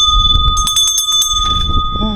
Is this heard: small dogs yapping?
no